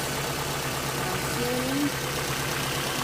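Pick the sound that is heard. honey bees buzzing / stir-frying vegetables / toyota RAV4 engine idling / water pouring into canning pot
toyota RAV4 engine idling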